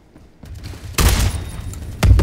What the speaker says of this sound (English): I just stole a shotgun and I'm just killing everyone with it